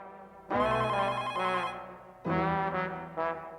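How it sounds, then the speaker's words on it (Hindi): A telephone rings in two long electronic bursts separated by a short pause, loud and close, with no talking over it. "माधवी, 1 मिनट सुनो बेटा, जरा तुम फोन उठाना।"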